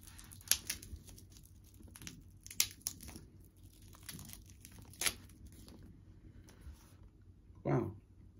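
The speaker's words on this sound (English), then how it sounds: "Let me unwrap the dial so we can see the dial." Plastic wrapping being peeled from a Chameri quartz watch dial, with scattered close, sharp crinkles and small tearing snaps that come in short bursts, plus a brief louder rustle near the end.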